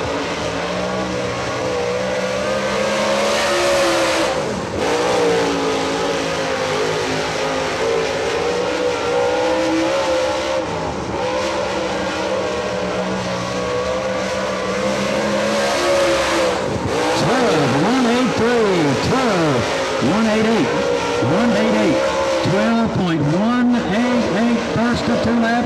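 Race cars run qualifying laps at Atomic Speedway, engines droning and rising as they circle the oval, some passing nearer and louder, with a voice talking over the track noise throughout.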